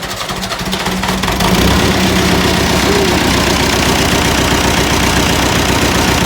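An engine on a 990 tractor cranks briefly, then catches and runs at a loud, steady, rough idle close by, continuing without pause to the end.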